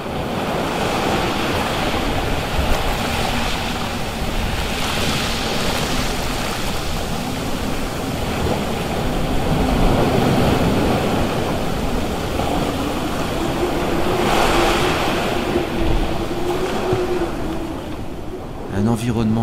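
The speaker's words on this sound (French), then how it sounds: "écoutez le souffle mordant du vent, le vacarme féroce de la houle" Roaring ocean surf with gusting wind, a continuous loud wash of crashing waves swelling and receding throughout.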